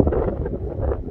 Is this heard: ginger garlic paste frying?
no